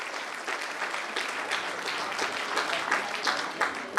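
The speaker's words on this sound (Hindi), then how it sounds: "एक बार जोरदार तालियां वंदना पटेल जी के लिए" Dense, lively audience applause at a celebration event, continuous clapping from a crowd close by with no voices over it.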